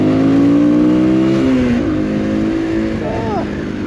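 A small MGB ATX 125 adventure motorcycle engine revs up as it rides, its pitch rising and then dropping with gear changes. The engine hum is steady and fairly loud and close.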